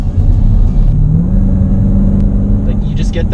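Supercharger whine from a Jeep Trackhawk accelerating, a thin steady tone riding over a loud, constant engine and road rumble heard from inside the cabin.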